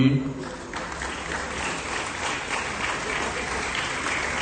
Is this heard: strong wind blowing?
no